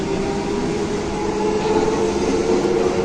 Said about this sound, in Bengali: এবার আমাদের ট্রেন বেলুড় থেকে ছেড়ে দিয়েছে আর পরবর্তী স্টপ আছে আমাদের বালি